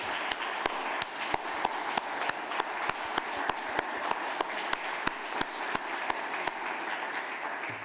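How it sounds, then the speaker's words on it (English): A conference audience at a city forum in Ljubljana applauds at length, with steady dense clapping and sharp individual claps standing out, filling the hall with no talk over it. "give Blaž a big round of applause"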